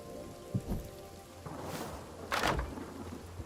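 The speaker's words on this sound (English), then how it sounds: "And it's starting to rain, so it's a good time to go back in." Rain falls steadily in a desert setting of a survival video game, a broad hiss with a couple of louder gusty swells and no voices.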